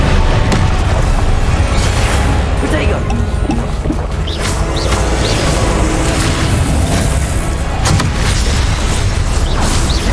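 Spell blasts and explosive booms from combat in the Hogwarts Legacy video game, played on PC, roll on continuously and loudly for the whole stretch, with dense layered impacts and a steady low rumble, and no speech over them.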